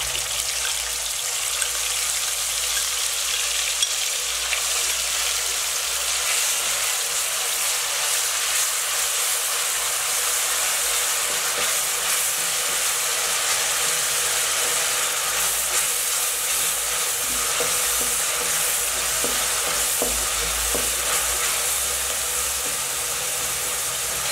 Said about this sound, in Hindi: बस यहाँ प्याज को हमने बहुत ज़्यादा ब्राउन नहीं करना, बस हल्का सा हम भूनेंगे